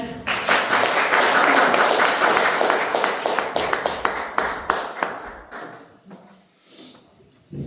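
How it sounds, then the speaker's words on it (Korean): Church audience applauding after a personal testimony at a CLS gathering, dense loud clapping that gradually thins out and fades to scattered claps by the end. "다시 한번 박수 부탁드리겠습니다"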